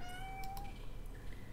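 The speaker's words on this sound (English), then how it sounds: "My cat's offering up some sound effects." A house cat gives one soft, fairly faint meow indoors over a low, dark game ambience.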